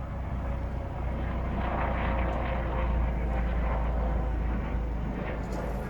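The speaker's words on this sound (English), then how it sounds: "Look at this helicopter above my head right now." A helicopter passes overhead at night during a lunar eclipse, a low, steady rumbling drone with a hum of rotor noise that stays fairly even throughout.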